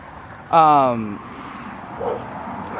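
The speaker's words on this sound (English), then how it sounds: "I figured you didn't want to hear a dog barking in the background for a couple minutes" A dog gives one loud, drawn-out bark or howl nearby, followed by a faint second sound against low room noise.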